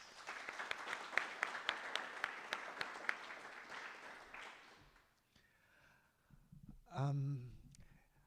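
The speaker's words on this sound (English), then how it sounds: "Let's give her another round of applause." Audience applause at a storytelling event, dense clapping for about five seconds that fades out, followed by a brief burst of voices near the end.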